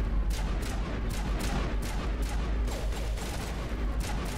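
Rapid bursts of triple-shot pistol fire in the Mass Effect Legendary Edition video game, loud repeated cracks fired in quick succession with a steady combat rumble underneath.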